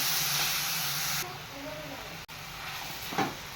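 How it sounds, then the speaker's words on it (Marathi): Onions roast in a hot kadhai with a steady hiss and sizzle, loud at first and then softer after a brief cut, with someone talking over the cooking. "इकडं कढाईमध्ये कांदा भाजायला ठेवलाय"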